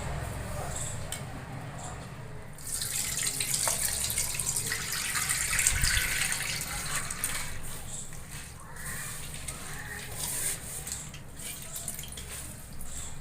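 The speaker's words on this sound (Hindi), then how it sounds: "इसी तरह से हाथ से मसल के धोएंगे, तभी दाल का छिलका निकलेगा" Soaked urad dal being washed by hand in a large plate of water, with steady close splashing and swishing that swells in the middle and continues throughout, no talking.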